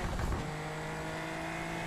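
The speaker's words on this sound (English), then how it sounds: "Oh, this car has a turbo." A turbocharged race car engine in the iRacing simulator hums at a steady pitch, its smooth tonal drone holding even with a brief rougher burst at the start.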